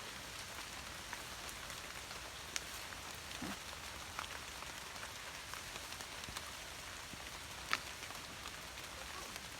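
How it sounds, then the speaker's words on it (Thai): Steady rain falls outdoors while mushrooms are gathered in the wet countryside, a dense, even patter close by that runs the whole time, broken only by a few small sharp taps and no talk. "ฝนก็ตกตก"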